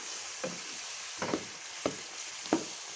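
Chicken liver masala with green chillies sizzles in a pan, a steady close hiss broken by four soft stirring knocks, with no voices.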